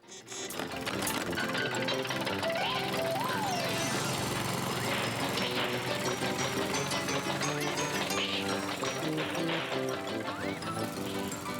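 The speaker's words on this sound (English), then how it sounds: "But there was no stopping the mower." A runaway lawn mower careers along in a children's TV show, its dense mechanical clatter and whirring running continuously and loudly under layered music.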